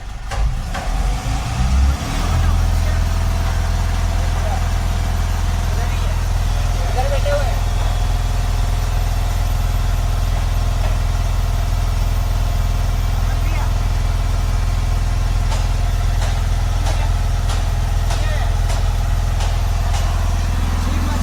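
An Ashok Leyland BS6 dozer's diesel engine idles steadily to warm up, a deep, even rumble that stays loud and close throughout while people talk faintly nearby.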